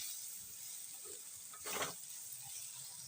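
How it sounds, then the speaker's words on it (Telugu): Onions and bitter gourd pieces fry in a pan with a faint, steady, high sizzle, broken by one brief louder stir or scrape midway. "ఈ ఆనియన్స్ కూడా మంచిగా ఫ్రై అవ్వాలి."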